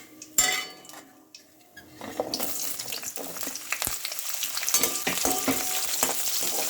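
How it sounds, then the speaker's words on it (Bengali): Flat beans drop into hot oil left from frying eggplant, bursting into a loud sizzle that swells and holds steady, with clinks of a utensil against the pan and no talk. "ওই তেলেই আমি এবার শিমটা দিয়ে দিলাম।"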